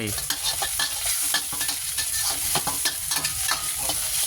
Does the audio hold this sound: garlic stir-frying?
yes